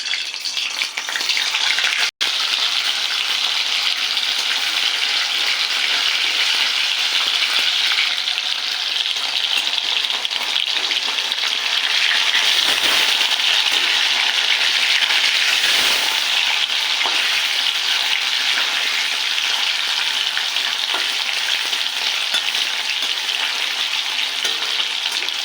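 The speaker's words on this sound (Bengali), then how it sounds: "পনিরটাকে হালকা ভেজে নেবো, বেশি ভাজবো না" Paneer pieces frying in hot oil in a wok, a loud continuous bright sizzle that runs unbroken for a long stretch with a single sharp click early on and no voices.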